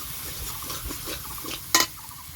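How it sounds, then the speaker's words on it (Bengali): Ground peanut spice paste sizzles softly in a pan while a spatula stirs and scrapes it in rhythmic strokes, close and moderately loud, ending with a sharper brief scrape near the end. "এবার দিচ্ছি বাটা চিনেবাদাম, দিয়ে ভালো করে মশলাটা কষিয়ে নেব"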